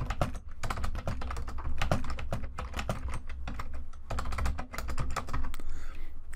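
Fingers type rapidly on a computer keyboard, a dense close run of light clicks with short pauses, heard alone.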